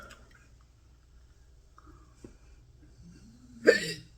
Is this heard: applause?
no